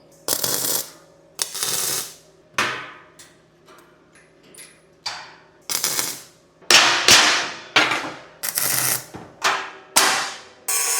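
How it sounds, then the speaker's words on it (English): An arc welder tacks a steel skin to flat bar around a rebuilt fire ring, giving a series of loud, close crackling buzzes of about half a second each, separated by short quiet gaps, with a faint clink between bursts. "now I'm just going to clamp and tack all the way around"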